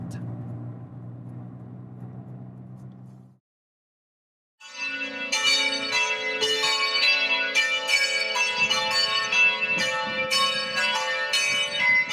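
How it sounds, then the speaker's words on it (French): A 1950 carillon in the church at Auclair rings loud, resonant overlapping bell strikes with long ringing tails. A low engine-like hum comes first, then a short silence before the bells. "ils ont un beau carillon qui date de 1950"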